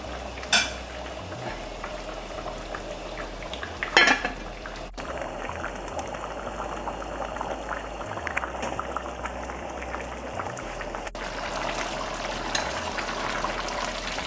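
Steady bubbling and gentle sizzling of a pot of saijan bhaji curry simmering on the stove, continuous and moderately loud, with a couple of brief clinks near the start.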